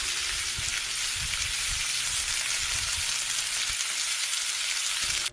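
Yellowfin fish body pieces frying in hot oil, a steady, loud sizzle with crackling pops running throughout and cutting off abruptly at the end.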